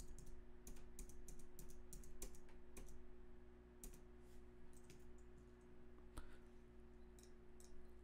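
Someone types a short command into a computer terminal, a quiet series of keyboard clicks in uneven bursts with brief pauses, over a low steady hum in a still room.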